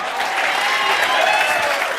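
Students in a CA Inter accounting revision class break into steady, dense applause, a loud continuous patter of many hands.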